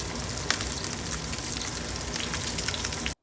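Salmon fillets fry skin side down in hot ghee, giving a loud, steady, crackling sizzle that continues evenly and then cuts off abruptly.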